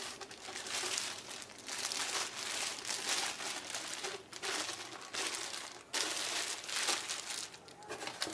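Packing paper is crumpled and torn away from stainless steel aftermarket parts for a MazdaSpeed Protege, a dense, continuous crackle with a few brief pauses, close and fairly loud with no talking.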